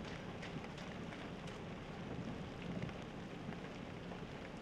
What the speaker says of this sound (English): See the rain even coming down harder now.